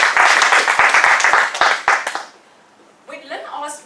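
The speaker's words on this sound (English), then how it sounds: "So another round of applause to you." A Toastmasters meeting audience claps briefly and fairly loudly, a burst of clapping that mixes with a voice and then fades out abruptly, followed by a short quiet gap before more talking.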